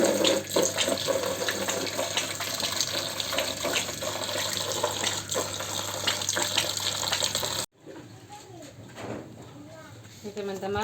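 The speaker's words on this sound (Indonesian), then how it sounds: "Aku hidupin dulu ya airnya." A kitchen water tap runs in a steady close rush while banana blossom vegetables are prepared, with birds cooing and chirping in the background; the flow cuts off abruptly and quieter room sounds follow.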